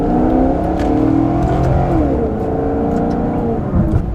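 A 2014 Maserati GranTurismo Sport with automatic transmission, engine and exhaust droning steadily while driving on a low-speed road, with rising and falling engine tones across the stretch and no talk.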